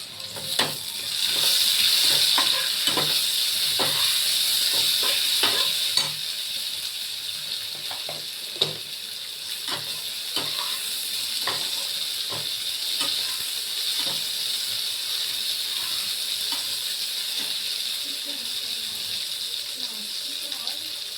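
Onion and garlic fry in a pan, a loud continuous sizzle with repeated scraping stir strokes and clinks throughout, the sizzle loudest early and then settling to a steady hiss.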